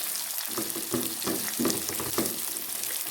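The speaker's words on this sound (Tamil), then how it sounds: "சேர்த்துட்டு நல்லா வதக்கி விடுங்க" Chopped onions sautéing in oil in a pan crackle under a steady hiss, with several rhythmic stirring scrapes close up and no talking.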